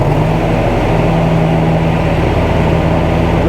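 A John Deere Z740R ZTrak zero-turn mower runs with its cutting blades engaged, giving a loud, steady engine drone and a constant whir that stays close and even throughout.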